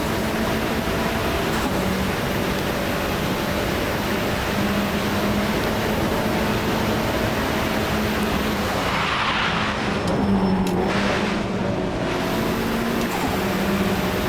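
A racing car in the sim game Automobilista 2 holds a steady engine drone while drifting off boost, with tyre squeal and a brief swell of skidding noise near the end, loud and continuous.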